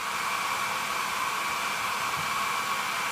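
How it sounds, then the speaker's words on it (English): A Conair hair dryer, used as an electrical load, blows with a steady, even whoosh and a faint high whine, constant from start to finish with no talking. "about 150 degree output on the hair dryer"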